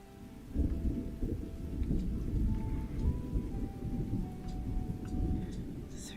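Rain falls steadily while low thunder rumbles through a thunderstorm, a continuous deep roar with scattered drops ticking on surfaces.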